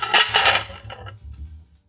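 A microwave turntable plate is handled, giving a couple of quick clinking, rattling contacts followed by fainter scrapes as it settles, close and brief.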